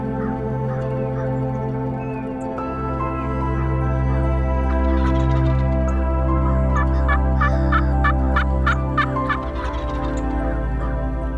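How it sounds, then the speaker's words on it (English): Wild turkey gobbling during a spring hunt in an oak woodland with moss, a series of rapid rattling gobbles that ring out clearly over a steady low background hum, recurring several times. "when you hear turkey gobble and you yelp back at him and he cuts you off"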